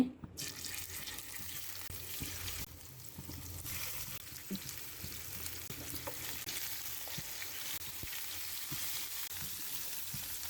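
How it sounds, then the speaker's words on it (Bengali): Coral fish slid into hot oil in a kitchen pan, giving a loud, steady crackling sizzle that runs unbroken throughout, with small pops and faint clinks of cooking on top. "তেল গরম হয়ে গেছে আমি এখন মাছগুলো দিয়ে দিচ্ছি"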